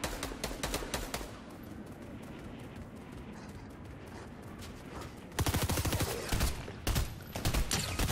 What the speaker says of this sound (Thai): ยิงกันอยู่แถวนี